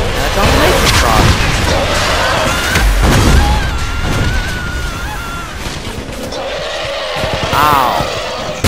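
Heavy tank explosions and gunfire in the Wolfenstein video game, dense booming blasts and rattling shots running continuously and loudly with an excited voice talking over them.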